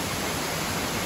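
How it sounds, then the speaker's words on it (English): Waterfall in India, the seventh highest in the country, roaring as a dense, constant broadband rush that fills the short clip at a steady loud level. "this is the seventh highest waterfall of India"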